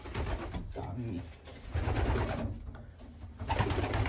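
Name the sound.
pigeons cooing in a breeder's loft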